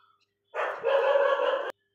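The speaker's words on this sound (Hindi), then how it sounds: "कुत्ते भौंक रहे थे इसलिए स्टॉप कर दिया था" A single dog gives one short, sharp bark nearby, alone against an otherwise quiet background.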